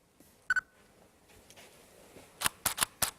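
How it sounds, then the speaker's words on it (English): A Nikon DSLR fires at a 1/5-second exposure: a sharp double click of the shutter opening and closing, then a quiet stretch and a cluster of crisp mechanical clicks and beeps near the end. "1/5 of a second, I'll take a picture."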